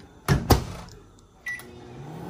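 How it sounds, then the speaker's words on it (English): An old microwave oven heating tortillas gives two sharp clunks as its door or controls are worked, then a short click and a steady low hum as it starts running, with no voices. "Yeah, my microwave is kind of old."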